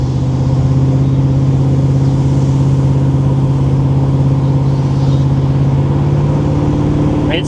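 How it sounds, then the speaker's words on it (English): Chevrolet Monte Carlo SS with a new transmission cruising at 45 mph, its engine a loud, steady drone heard from inside the car, with people talking over it. "I mean, we're driving. We're going 45."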